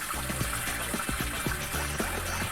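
Water pours into a washing machine drum during laundry filling, a steady splashing gush with no voices over it.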